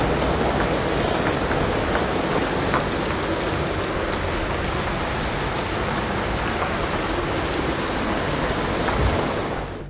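Heavy rain pours steadily in Caratinga, Brazil, with runoff flooding the street; a dense, constant roar of water holds for the full ten seconds without any voices.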